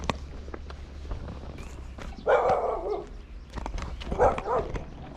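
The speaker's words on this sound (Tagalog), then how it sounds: "ang daming aso na yun" Several dogs bark in two short bursts along a road in southern Taiwan, fairly near, over scattered footsteps and light outdoor noise.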